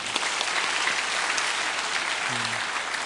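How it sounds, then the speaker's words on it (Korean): Congregation applause during a church service, steady and sustained, a dense patter of many hands clapping with no talking over it. "우리 박수로 격려해 주십시오."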